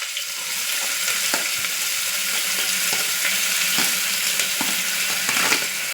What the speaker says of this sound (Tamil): நல்லா வெங்காயம் பொன்னிறம் வர வரைக்கும் வதக்கிக்கலாம்